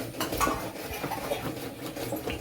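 Steady scraping and clinking of a utensil stirring in a pan, a continuous rhythmic kitchen sound with no voices.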